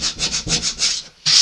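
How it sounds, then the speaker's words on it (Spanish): Coarse sandpaper rubbed along the grain of a wooden vintage side table, a loud rhythmic scratchy swish repeated about six times, with a brief pause before the next stroke, close up and without talk. "Es una lija bastante gruesa, ¿veis? Se está llevando madera con ella. Siempre en dirección de la veta."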